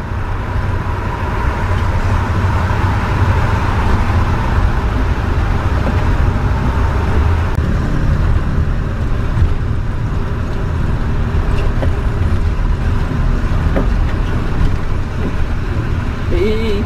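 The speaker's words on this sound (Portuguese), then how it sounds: "vem vindo o carro de frente" An oncoming car passing on the E35 highway through the mountains near Cuenca, Ecuador, in the rain. A constant loud road and engine roar inside the moving vehicle, with no distinct separate whoosh.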